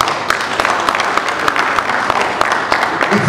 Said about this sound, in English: Let's clap for ourselves.